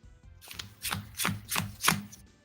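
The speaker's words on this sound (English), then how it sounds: "I hate pile shuffling." A deck of trading cards is pile shuffled by hand, with five soft, evenly spaced slaps as cards are dealt down onto small stacks on a table, close and fairly quiet.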